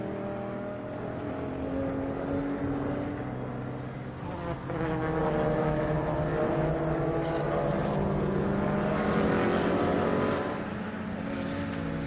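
Racing cars in the Supercar Challenge at Assen, including a Hyundai, battle for position on the circuit. Sustained engine roars rise and fall as the cars hold high revs at a moderate distance.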